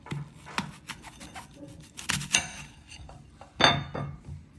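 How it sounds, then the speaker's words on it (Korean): Knife halving a washed apple on a board, heard as a few quiet, sharp clicks and knocks of blade and cutting board spread unevenly over a few seconds. "사과를 반을 잘라줍니다"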